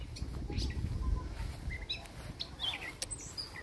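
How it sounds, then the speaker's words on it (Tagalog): Faint birds chirp in short scattered calls outdoors at a riverside campsite, soft and somewhat distant over low background rumble and noise. "Naguhuni mga ibon."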